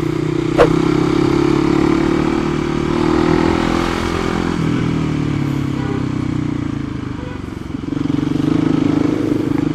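A Triumph motorcycle engine rumbles close by, swelling and easing in a few gentle revs over nearly ten seconds, with a sharp click near the start and a steady low drone throughout.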